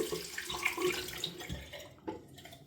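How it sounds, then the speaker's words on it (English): Hands rinsed under a running tap during a wet shave, a steady splashing hiss of water with small shifting gurgles, close and fairly quiet, stopping briefly near the end. "Rinse my hands."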